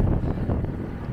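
Strong wind buffets the microphone of a cyclist riding about 25 km/h in Qatar in a continuous low rumbling roar, loud and close for the whole short stretch.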